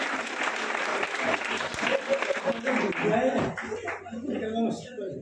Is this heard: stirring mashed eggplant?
no